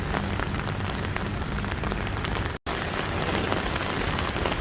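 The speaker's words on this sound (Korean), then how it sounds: "비가 너무 많이 온다" Heavy rain pours down at the Sydney fish market during a downpour, a dense, loud, continuous hiss and patter of drops on surfaces, broken only by one very brief gap.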